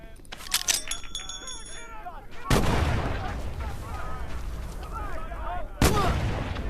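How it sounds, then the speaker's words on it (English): A grenade blast in the VR World War II shooter Medal of Honor: Above and Beyond, one sharp loud bang followed by a second later on, with clinks and voices underneath. "Arm the grenade and throw it."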